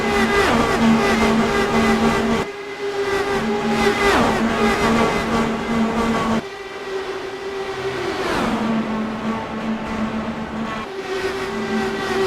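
Race cars lap a track in heavy traffic, engines droning and revving in overlapping steady tones with brief dips as cars shift and pass, loud and continuous.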